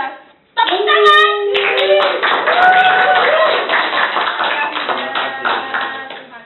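A studio audience at a performer interview show claps loudly and continuously, with voices calling out over the clapping.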